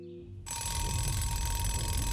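Alarm clock ringing inside an animated cartoon house: a brief quiet lead-in, then a loud, continuous metallic bell clatter that fills the rest of the moment without pause.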